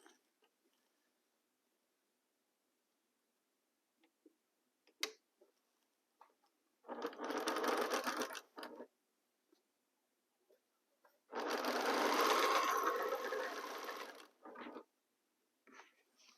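Sewing machine stitching seams together, two bursts of loud rapid running a few seconds each, separated by quiet pauses with faint handling clicks.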